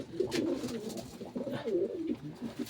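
Pet pigeons coo in low, rolling, repeated calls that sit close and steady and fill the stretch with no talking.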